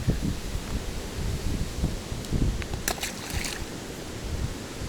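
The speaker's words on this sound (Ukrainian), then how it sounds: "Ну вітер шалений" Strong gusty wind rumbles against the microphone in uneven low bursts on a shoreline in November, with water sloshing nearby and a few faint clicks.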